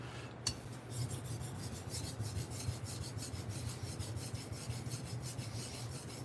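A knife is honed on a Washita sharpening stone with steady, close rasping strokes in an even rhythm, alone with no voices.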